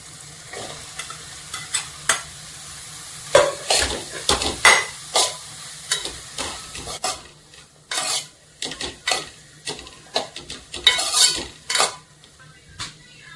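Cut mushrooms for a Goan mushroom xacuti are tipped into a hot pan and stirred, with repeated spoon scrapes and clinks against the metal over a steady frying sizzle and a low hum, close and busy throughout.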